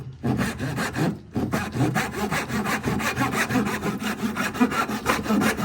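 A hand saw cuts through wood in quick, even back-and-forth strokes after a brief pause. The rasping is close and steady, with no talk.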